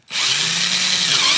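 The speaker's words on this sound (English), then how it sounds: "You see how I'm drilling the holes in," A power drill bores holes and drives screws while a dulcimer is being built. It gives one loud, steady, high whine that starts abruptly and runs unbroken, close up, with no talking.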